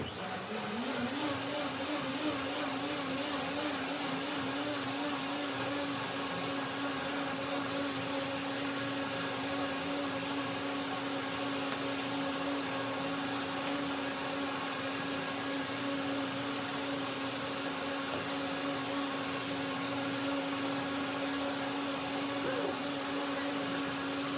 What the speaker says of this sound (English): And then I blend a second time.